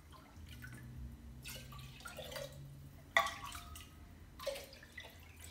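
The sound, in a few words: pouring strained beef bone broth into a glass jar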